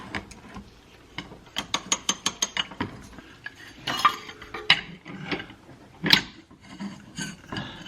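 A ratchet driven with a cheater bar turns hitch mounting bolts into the underside of a Toyota Matrix, giving a run of sharp, evenly spaced clicks followed by scattered ratcheting bursts and metallic scrapes, close up with no talk.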